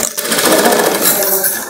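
A sewing machine stitching a rope from satin cloth, a short, loud, fast rhythmic run of the needle lasting under two seconds.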